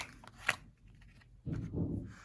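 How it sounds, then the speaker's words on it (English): A deck of cards being shuffled at a tabletop for a card game, a quick riffle followed by a longer, close, quiet flurry of card-on-card shuffling. "Shuffle your deck and draw 7 cards to begin your game with."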